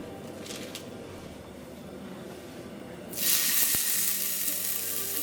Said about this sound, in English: Oh, that sizzle sound.